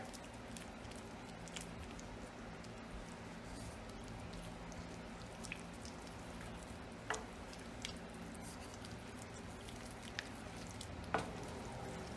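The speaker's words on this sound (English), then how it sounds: "And now we stir." Potatoes and bacon gravy being stirred in a cast iron pan, soft wet squishing and gentle sizzle with occasional spoon clicks against the iron, quiet and close, no talking.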